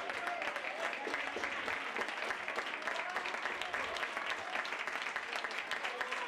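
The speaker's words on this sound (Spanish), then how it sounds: "Entre aplausos del personal." Spectators applaud steadily at a regional football match between UD San Pedro and Alhaurín de la Torre CF as substitutes come on, a dense, continuous patter of clapping from the stands throughout.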